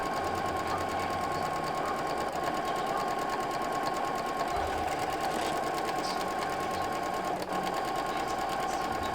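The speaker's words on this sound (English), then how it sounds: "Now I moved on to the back panels and stitched the lining and jacquard at the same time" A sewing machine runs continuously, stitching lining and stretch jacquard back panels together, a fast, even mechanical whir close up with no pauses and no talking.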